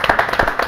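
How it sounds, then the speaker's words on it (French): Rhythmic clapping on a French radio show, loud and close, with sharp regular hand claps about every tenth of a second in an even beat. "On va applaudir."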